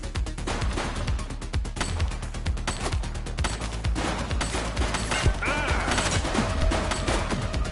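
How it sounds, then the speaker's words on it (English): Heavy, continuous gunfire from the police video game The Precinct, dense overlapping shots and automatic bursts in a loud, sustained exchange with crashing impacts mixed in, no talking. "Shots fired!"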